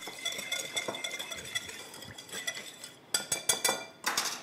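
A spoon stirs a sherry and sesame oil marinade in a bowl, giving quiet, close rhythmic scraping with sharper clinks of metal against the dish toward the end, no speech.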